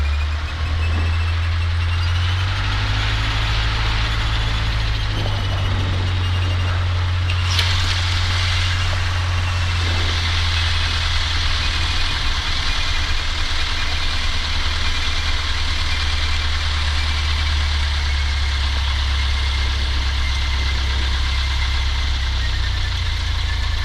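A Cessna's engine idles steadily as the plane taxis toward parking and across a runway, a loud, low, continuous drone with a faint change in pitch early on and no voices.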